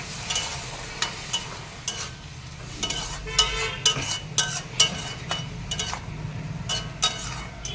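Okra and potato being stirred in a pan with mustard paste, ground cumin and water, a steady scrape with intermittent metal clinks over a soft sizzle, close and moderately loud, no voices.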